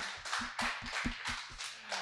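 Audience applause at a literary cabaret event, a short burst of scattered claps from a small crowd, fairly close and uneven in rhythm.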